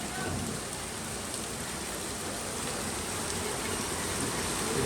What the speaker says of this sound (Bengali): অনেক বৃষ্টি নামছে, অনেক বৃষ্টি হচ্ছে, অনেক।